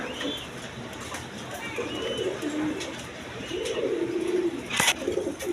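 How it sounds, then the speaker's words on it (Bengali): King pigeons coo at a pigeon seller's, several soft, low, rolling coos close by over a light background hiss, with one sharp click near the end. "এক পেয়ার কিং কবুতর আছে দেখেন"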